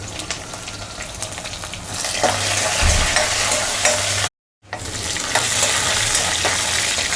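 Onions, garlic and dried chillies sizzle and fry steadily in a pan for a Tamil moong dal tomato kootu, with stirring scrapes, a loud continuous crackle and a brief cut to silence midway.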